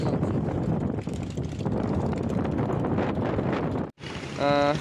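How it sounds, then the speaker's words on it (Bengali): Strong wind roars and buffets the microphone in a constant rush at Dhaka's Sadarghat river launch terminal, cutting out briefly before a low tonal hum rises near the end. "ধীরে ধীরে বাতাস বয়ে চলেছে"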